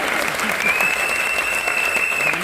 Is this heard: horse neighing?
no